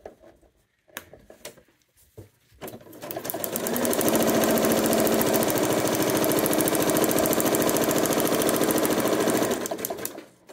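A sewing machine stitches a fabric seam in a quilting project, with a few clicks and handling sounds before a loud, steady, rapid whirring run of about six seconds that then slows to a stop.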